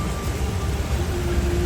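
Heavy rain pours onto a waterlogged road in slow traffic, a dense steady wash of noise heard from inside a vehicle with a low rumble beneath.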